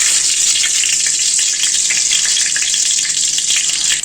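Mustard seeds and asafoetida frying in hot oil in a kadai, a loud, dense, continuous sizzle with fine popping crackles throughout, heard up close with no voices.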